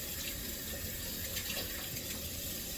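Tap water runs steadily into a sink as a pack of meat is rinsed for Philly cheesesteak, a close, continuous splashing gush with no pauses.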